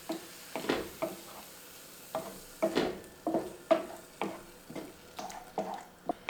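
A spoon stirs a spiced plant-based sloppy joe sauce of tomato sauce, cumin, smoked paprika and chili powder in a pan, a series of soft rhythmic scraping strokes over a low sizzle, close and fairly quiet.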